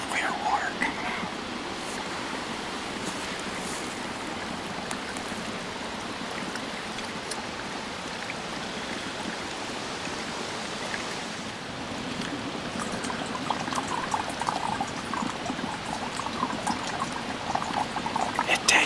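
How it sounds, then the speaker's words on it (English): Clear water trickles and streams steadily out of a slow camp water filter into a jug outdoors on a Colorado elk hunt, a soft continuous pouring sound that stays even throughout. "This is the clear water coming out."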